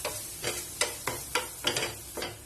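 Chili powder being stirred into a sizzling masala in a pan, with six or so rhythmic scraping strokes over a constant background fry, close and moderately loud.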